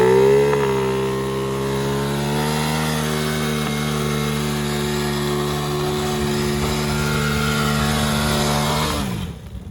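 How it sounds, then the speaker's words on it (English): A quad ATV engine revs hard and steadily through a reverse burnout, a loud, sustained droning roar held at high pitch for several seconds before it drops off abruptly at the end. "And this is kind of a reverse burnout."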